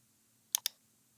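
Two sharp computer mouse clicks in quick succession in grooming shop software, crisp and close against a near-silent background.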